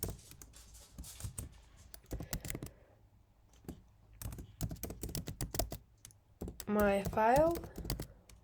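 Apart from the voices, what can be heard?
typing on a computer keyboard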